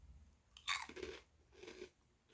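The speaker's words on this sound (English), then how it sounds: "That's a pretty impressive crunch for that little piece of product there." Two crisp crunches of biting into a small, airy chili cheese flavored snack, close and fairly quiet, the first bite sharp and the second softer a moment later, with light chewing in between.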